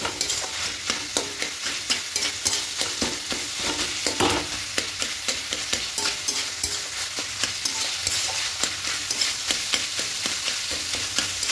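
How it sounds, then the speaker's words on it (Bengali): Vegetarian pumpkin chhechki is stirred and fried in a pan over a high gas flame, a constant sizzle broken by a steady run of rhythmic spatula scrapes, close and without talk. "গ্যাসের ফ্লেমটাকে বাড়িয়ে দেবো, দিয়ে এভাবে ঘেঁটে নিয়ে একটু শুকনো করে নেব।"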